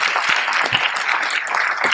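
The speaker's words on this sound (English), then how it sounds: "please give these folks a round of applause" Audience applause at a Republican candidate forum in Kendall County, a short, moderately loud burst of crowd clapping with no talk over it.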